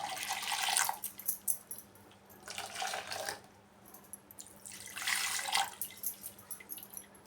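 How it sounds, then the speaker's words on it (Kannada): Bursts of water gush into a cooking pot in three separate pours, each lasting about a second, with quieter trickling and dripping between them, while making bulle payasa. "ಸ್ವಲ್ಪ ನೀರು ಸೇರಿಸ್ಕೊಳ್ಳೋಣ"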